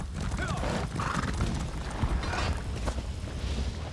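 A horse in Elder Scrolls Online gallops with continuous rhythmic hoofbeats and lets out neighs over a dense game soundscape, sustained throughout.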